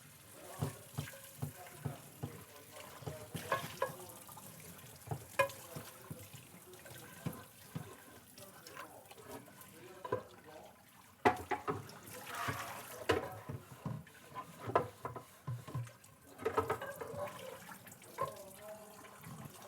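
Water runs from a tap in a kitchen, splashing and trickling unevenly with intermittent clatter, fairly faint, with voices talking in the background.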